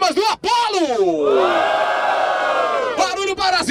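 A rap battle crowd roars, cheers and whoops in a long loud swell, with an amplified host's voice shouting over them at the start and end.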